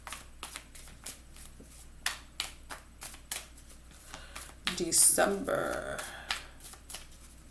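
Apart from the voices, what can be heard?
shuffling tarot cards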